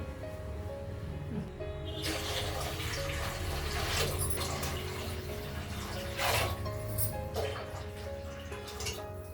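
Water pours steadily into a pot of rice, a continuous rushing splash with slight shifts in tone over several seconds.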